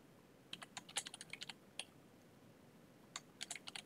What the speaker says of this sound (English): So I'm going to type firewall -cmd -zone.